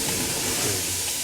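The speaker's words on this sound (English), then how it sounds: "The spring water is poured on the rock," Spring water poured onto hot rocks inside a dark sweat lodge sends up a steady, close, broadband hiss of steam that fills the space without pause.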